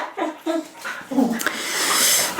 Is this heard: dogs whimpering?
yes